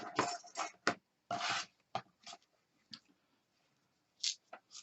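Trimming the melted end of a synthetic double braid rope gives short, close, quiet rasping and rubbing cuts in separate bursts with gaps of silence between them.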